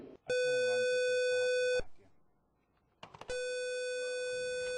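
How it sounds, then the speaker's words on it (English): Two long, loud electronic alert tones, each lasting over a second, separated by a short quiet gap with faint background noise. "We have a fire alarm activation."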